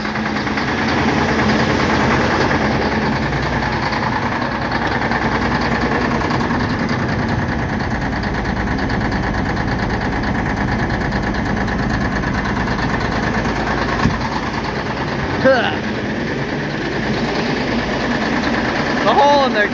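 A 1987 Mack dump truck diesel idles just after a hard cold start, with a hole in the exhaust. The engine gives a loud, steady, rough rumble throughout, and voices come in faintly at times.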